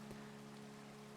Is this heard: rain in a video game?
yes